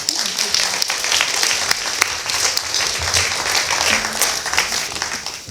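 Warm, sustained audience applause with dense clapping continues evenly throughout a science awards celebration held by the Science Council.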